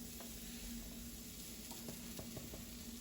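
Chopped onions and mushrooms sizzle in a risotto pan, a continuous soft frying hiss with occasional small clicks of stirring.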